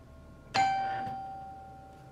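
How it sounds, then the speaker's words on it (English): A single bright electronic doorbell chime rings once and hangs with a long, slowly fading tone in a quiet room. "I think I hear the doorbell."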